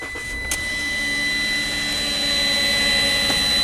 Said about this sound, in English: you hear the pump is starving, almost like an empty power steering pump